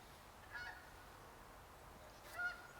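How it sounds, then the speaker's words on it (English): A lone goose honks twice through thick fog, the calls a couple of seconds apart and moderately distant against a quiet, steady outdoor background. "There's a lone goose."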